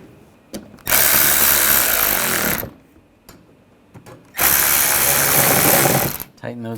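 A power tool drives and tightens screws on the upper grille of a 2009-2010 BMW 535i xDrive, two loud sustained whirring bursts of a couple of seconds each, close up, separated by brief clicks.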